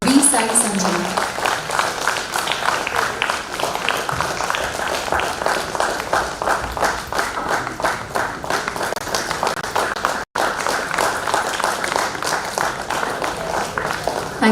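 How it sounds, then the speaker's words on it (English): An audience at a national Odissi dance competition gives sustained, even applause for a participant, steady dense clapping throughout with a brief break near the end. "Let's give a huge round of applause for V."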